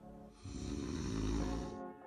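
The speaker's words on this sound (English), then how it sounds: "all the soft tissue around your throat vibrates, causing that awful snoring sound" A single loud, close snore caused by vibrating throat tissue, a rough rattling inhale swelling and holding for over a second before fading, with no talk.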